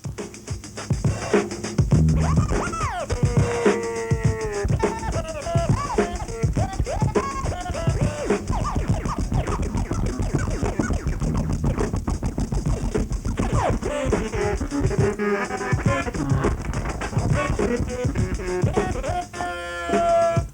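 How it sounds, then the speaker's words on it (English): Tweak scratch played by moving a turntable platter with both hands, producing a dense run of percussive, pitch-bending record scratches that carry steadily and loudly for about twenty seconds with no talking. "So that's the tweak scratch"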